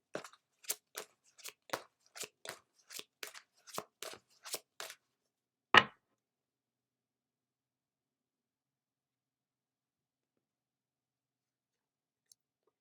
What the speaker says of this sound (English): Next, we'll pull a card from the Fairy Oracle deck.